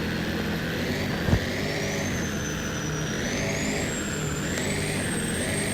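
A rebuilt truck's engine runs at a steady idle close by, with an even, continuous rumble and one brief knock partway through, and no talking.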